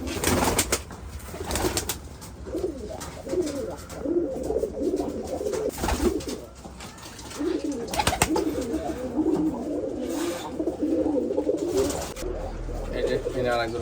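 Pigeons coo steadily on a pigeon farm, a dense overlapping chorus of low bubbling calls with other birds mixed in and a person talking at times.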